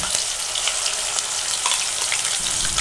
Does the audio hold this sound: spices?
yes